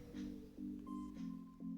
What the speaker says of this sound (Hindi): और बिल्ली भी देखिए साथ साथ चल रही है।